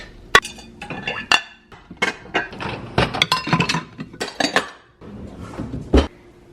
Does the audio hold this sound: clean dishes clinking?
yes